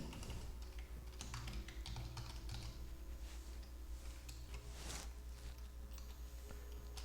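Typing on a computer keyboard while entering data into a spreadsheet, a quiet run of soft clicks and taps under a faint steady hum, no voices.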